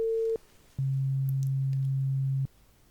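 Hearing-test tones, pure and electronic: one short beep at a higher pitch, a brief pause, then a lower, steady tone held for nearly two seconds before stopping, over a quiet background.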